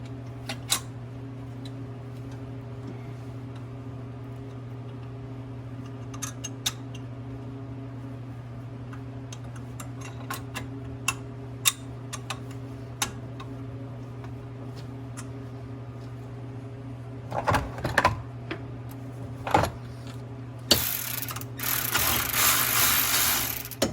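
Ratchet threading the first couple of bolts onto a clutch assembly for a Polaris RZR Pro R 4-cylinder, with sparse clicks and ticks over a steady low hum, then denser ratcheting and a brief rushing burst near the end.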